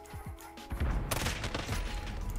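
Gunfire in the Modern Warfare video game, a quick burst of sharp repeated shots followed by a denser flurry of cracks and booms.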